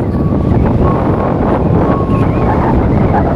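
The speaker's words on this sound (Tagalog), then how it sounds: "Sobrang hangin." Strong wind gusts roar steadily across a high open hilltop, buffeting the microphone with loud continuous low rumble throughout.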